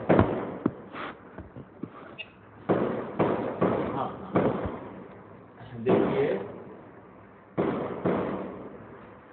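Firecrackers going off outdoors near a man giving a spiritual talk: a string of sharp cracks and bursts in irregular clusters, some near and loud, with his voice heard speaking between them.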